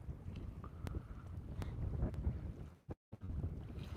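Wind gusting across a lake during a fishing session, buffeting the microphone with a loud, rough low-frequency roar that swells and drops, briefly cutting out before resuming.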